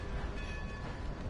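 A train rumbles past in Red Dead Redemption 2, a dense continuous rolling roar of rail wagons filling the whole moment without speech.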